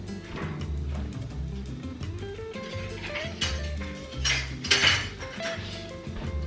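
Dry ingredients for pumpkin bread are mixed in a bowl, with repeated close clinks and scrapes of a utensil against the bowl, irregular and busy, swelling briefly louder partway through.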